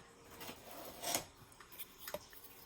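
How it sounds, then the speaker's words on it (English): Cutters snipping the handle off a craft piece, a few close, quiet metallic clicks and scraping sounds, one snip more prominent than the rest, with no talking. "cut that off, cut the handle off"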